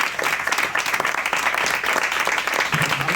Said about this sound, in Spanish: un aplauso, obviamente